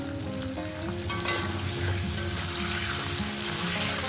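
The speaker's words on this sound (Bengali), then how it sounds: "এখন এটা আমি মিনিট পাঁচ ছয় করে ভাজবো" Pumpkin and other vegetables with tomato and green chilli fry in a pan, a loud, steady sizzle running throughout with occasional stirring scrapes and no talking.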